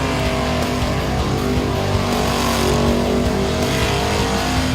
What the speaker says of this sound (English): Just get out there, floor it, top gear, smash them, get off.